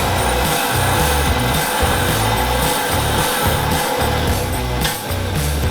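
A bench-mounted wire wheel scrubs rust and grime off old bolts from a Holden HG front end, a loud, steady grinding whir with a pulsing rhythm as each bolt is pressed against the bristles, close and continuous.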